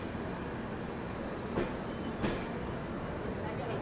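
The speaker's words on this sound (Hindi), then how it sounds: "सामने से यहाँ पे निकल रही है आपकी सहरसा अहमदाबाद एक्सप्रेस" Saharsa Ahmedabad Express, hauled by a WAP-7 electric locomotive, rolls through Sonpur station in steady broadband rumble with two brief clunks of wheels over rail joints, no talk over it.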